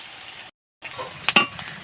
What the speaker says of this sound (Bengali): পেঁয়াজটা আমি ভালো করে ভেজে নিচ্ছি